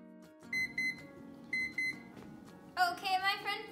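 A kitchen timer set for two minutes on an egg-dyeing experiment sounds two pairs of high electronic beeps close by, followed by a burst of excited talk.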